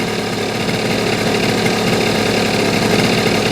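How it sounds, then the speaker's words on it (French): A small engine held at high revs during carburetor adjustment, a loud, steady buzzing drone that runs unbroken throughout with no voices. "On maintient quand même un régime moteur élevé pour faire le test."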